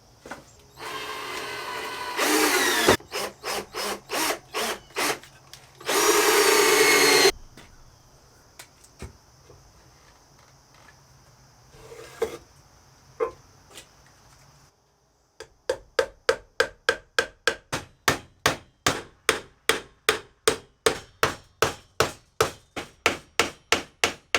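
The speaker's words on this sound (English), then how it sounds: "I'm actually going through and pre-drilling a lot of the holes and then putting in the nails" A power drill whines in short bursts, then a steady series of sharp hammer blows drives nails into wood, close and rhythmic, with no talking.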